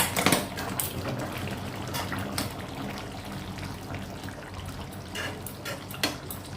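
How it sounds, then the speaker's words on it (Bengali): A little hot water is poured into chicken kosha curry, giving a steady close splashing and trickling with a few sharper clinks at the start and toward the end, no voices. "এবার দিয়ে দেব খুব সামান্য গরম জল, একটু সামান্য গ্রেভি করার জন্য।"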